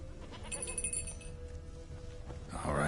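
Goat in Witcher 3 letting out a wavering bleat amid game ambience, with a bright clinking, shattering burst at the very end.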